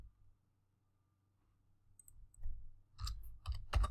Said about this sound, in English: I was talking and typing at the same time.